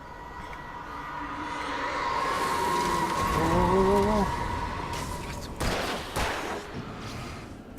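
Gunfire from the video game Alan Wake: a loud burst of shots with rising whistling tones and rumbling in the middle, followed by sharper bangs near the end.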